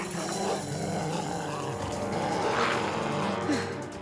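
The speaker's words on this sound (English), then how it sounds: "Oh, did those little doggies scare big brave Carmen Sandiego?" Dogs growl and bark low in a Netflix interactive Carmen Sandiego animated special, a rumbling, snarling sound blended with background score at moderate volume.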